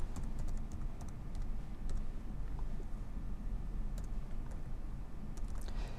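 A computer keyboard clatters steadily as web programming code is typed, with dense, close key presses and no speech over a low background hum.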